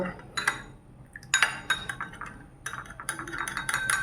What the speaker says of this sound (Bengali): টক দই নিয়ে দুধ দিয়ে একটুখানি মিশিয়ে নিলাম